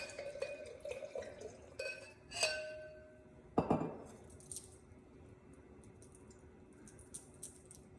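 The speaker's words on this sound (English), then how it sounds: "We'll get this glass out of the cabinet. Give us a little pour." Camelot mead honey wine is poured into a glass taken from a cabinet, giving light clinks of glass and a brief liquid trickle, with one sharper clink partway through and quiet room tone afterward.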